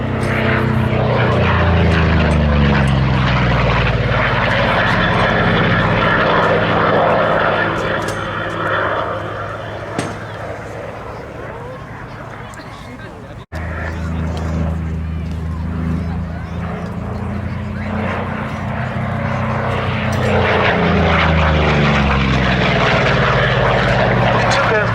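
Goodyear Corsair and Grumman Bearcat propeller fighters at the Duxford Battle of Britain air show: loud, continuous radial-engine roar swelling and fading as the aircraft pass, with a commentator talking over the noise.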